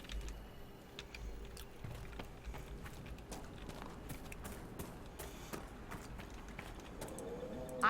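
Steady clip-clop of horse hooves at a walking pace in Dragon Age: Inquisition, fairly quiet, with faint game-like ambience behind the rhythmic steps.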